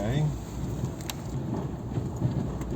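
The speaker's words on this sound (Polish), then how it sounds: "Pod górę wyjeżdża samochód." A car climbs uphill along a snowy street in Murzasichle in blowing wind and falling snow, giving a steady low rumble mixed with gusty noise, with a brief voice at the start.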